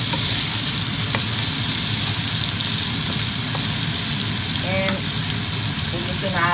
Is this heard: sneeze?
no